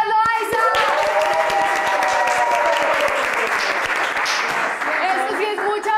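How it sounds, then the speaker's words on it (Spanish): A studio audience on a Spanish-language talk show breaks into strong, sustained applause that fills the whole stretch, with whoops and a presenter's voice riding over the clapping. "Un fuerte aplauso para Elizabeth Loaiza."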